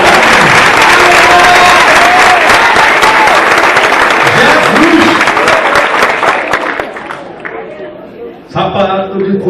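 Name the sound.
audience applause at a church conference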